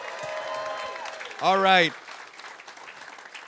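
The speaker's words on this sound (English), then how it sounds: "Let's give a huge round of applause to San Jose Downtown Association." Brief burst of audience applause at a town hall, loud and close for about half a second after a voice finishes speaking, followed by quieter room noise and a few words of talk.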